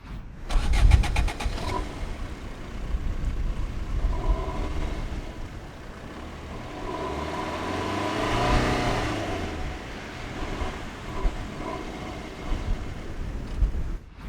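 A modified Fiat Punto Evo diesel engine, 110 horsepower, starts with a rough burst, then idles and revs up and down in a deep, throaty rumble, close by.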